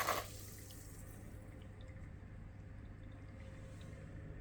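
A Swell internal aquarium filter churns the tank's water surface, giving a steady, soft, close bubbling and trickling wash with a brief splashy burst at the very start and no voices.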